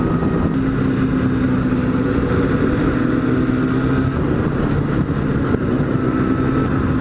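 Kawasaki ZX-10R engine droning loud and steady while riding, with wind noise over it and no clear rise or fall in revs.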